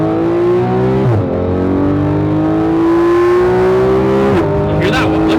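A Porsche 991.1 GT3 RS engine revs loud and close with a high, rising wail, holding a sustained pitch with brief dips between pulls, while people talk underneath.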